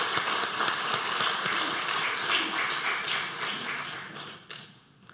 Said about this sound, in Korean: 할렐루야 찬양대 또 주일 경배 찬양팀 축복하고 격려하는 박수 하도록 하겠습니다.